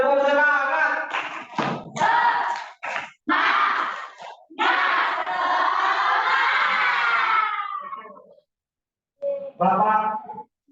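Students in a Zoom class chant a spirit clap together, loud crowded shouting voices in rhythmic bursts with gaps, ending after a short silence with a final burst.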